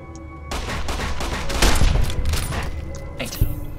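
Rapid bursts of gunfire in the video game Fallout New Vegas, a dense fusillade of shots with heavy thumps, loud and continuous after a brief quiet start, with a faint voice underneath.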